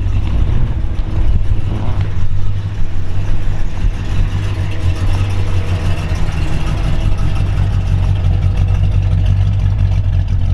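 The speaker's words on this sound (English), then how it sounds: "Car runs beautifully." A 1968 Dodge Coronet R/T convertible's 440 four-barrel V8 runs steadily and loudly close by, with a constant low rumble and no talking.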